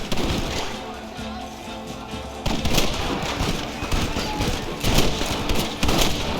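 Gunfire rattles through a shootout with soldiers in the Red Dead Redemption video game: dense, loud overlapping rifle and pistol shots with crackling bursts, under shouted voices.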